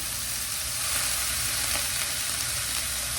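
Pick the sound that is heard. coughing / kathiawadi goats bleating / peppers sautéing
peppers sautéing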